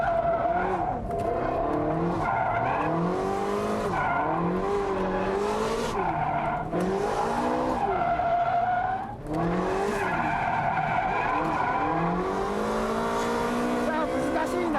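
A Ferrari 360 Modena drifting on a track: the mid-engine wails and rises and falls with the throttle while the tires squeal continuously. It is loud and close, with occasional voices over it.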